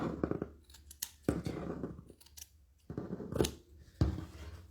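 Scissors cut leather pieces for kit-made slippers, with crisp snips repeating at an uneven pace, close and moderately quiet.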